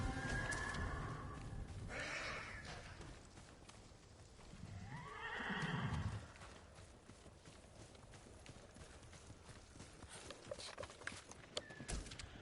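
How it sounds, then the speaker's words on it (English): Horses whinny loudly in Ghost of Tsushima, with a long rising neigh in the middle, while hooves clip-clop and gallop under continuous game ambience. A faint rhythmic trot carries on toward the end. "Them horses wanted to be free."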